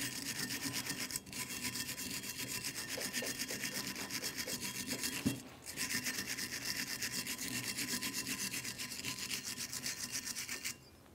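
Wire brush scrubbing the caliper bracket mounting points on a 2010-2013 Kia Forte Koup, a steady close rasping rub that runs almost continuously, with a brief pause near the start and a single knock midway.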